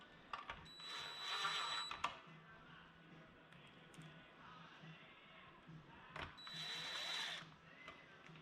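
A power drill drives screws back in to mount the fan of a GE double oven, two whirring bursts of about a second each separated by quieter handling sounds and faint clanks.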